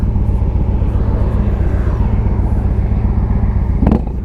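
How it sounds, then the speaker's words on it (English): A 2015 Victory Vegas 8-Ball cruiser on short straight exhaust pipes idles loud and close, a deep steady lumpy rumble that holds throughout with a brief sharper blip near the end. "2 little straight pipes firing right into the ground. They sound crazy too."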